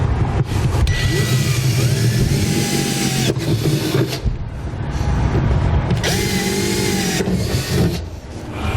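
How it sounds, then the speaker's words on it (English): A power drill bores pilot holes into the steel bed of a 2016 Ford F-series pickup, two long sustained high-pitched whining bursts with brief pauses between, loud and close, over a steady low background rumble. "I'm going to drill a pilot hole in all 5 of the marks that we made"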